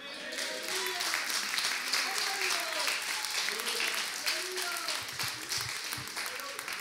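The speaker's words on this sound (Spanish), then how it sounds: "¿Le da un aplauso a Dios?" A church congregation claps together in steady applause, rhythmic and dense, with voices and a few shouts mixed in, continuing for several seconds.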